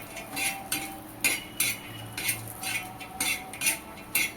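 Ground masala paste of roasted coconut roasting in oil over a medium flame, stirred with a spoon: repeated scraping strokes against the pan roughly every half second over a soft steady sizzle, close and alone.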